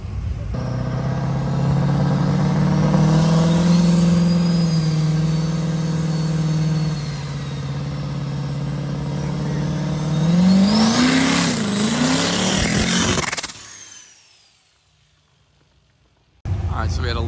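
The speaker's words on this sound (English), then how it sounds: "We got our factory race truck here." A factory diesel drag racing truck with a blown H pump relief valve roars at a drag strip, a loud sustained engine drone that climbs in pitch in revving surges before cutting off abruptly, followed by near silence and then more engine noise.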